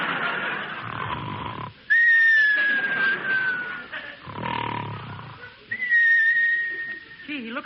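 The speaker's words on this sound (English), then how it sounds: "Now come the whistles." Shrill sliding whistles cut in during a 1930s radio comedy sketch, two long sustained tones about four seconds apart, each following a stretch of rumbling, snore-like noise.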